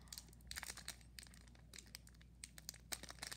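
Crinkly plastic of a 2016 Donruss baseball card pack wrapper being crumpled and torn open, with a steady run of sharp rustling crackles and little pauses, close up and fairly quiet.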